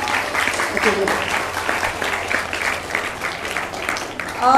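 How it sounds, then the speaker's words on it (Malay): An audience in a religious talk gives steady, dense applause that runs throughout, with a voice speaking over the clapping. "Tepukan gemuruh."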